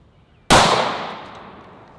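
A single sharp, loud pistol gunshot from a SIG handgun, fired into a ballistic gel block covered in heavy clothing. The report cracks suddenly and then rings out in a long, slowly fading echo.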